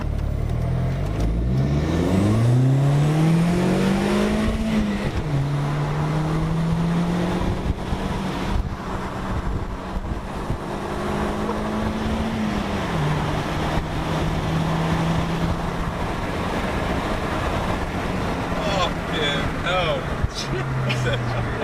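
A tuned 1.8T Mk4 Golf with a front-mount intercooler accelerating and driving around, engine droning loudly from inside the cabin with rising revs and shifts, plus wind and road noise, while people talk over it.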